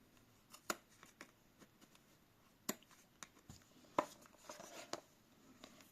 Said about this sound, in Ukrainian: беру ножиці і розрізаю навпіл з одного краю